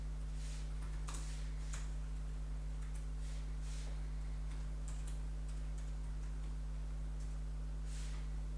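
Faint, scattered key clicks from a computer keyboard being typed on during a BitLocker bypass demo, sounding sparse and irregular over a steady low electrical hum, with no talking.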